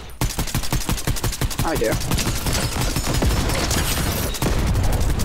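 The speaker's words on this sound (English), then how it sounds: "Oh, yep, there's shooting this way." Rapid gunfire in a video game, dense bursts of shots fired continuously at close range, with a voice speaking briefly over the shooting.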